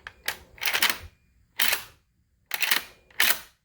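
An Ithaca Mag 10 shotgun bolt is worked by hand with a fault where it will not lock back, giving four or five crisp metallic clacks and slides in close, sharp bursts with brief quiet gaps between.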